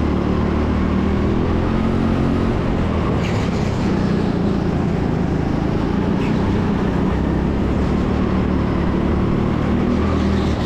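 Go-kart engines drone continuously on the TeamSport Sheffield track during a hot pursuit race, a constant, loud, broadband rumble with no talk over it.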